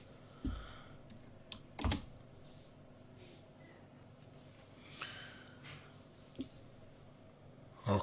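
Keystrokes on a computer keyboard, sparse and irregular, with a few louder clicks and taps spaced apart over a quiet room background, close to the listener and without speech.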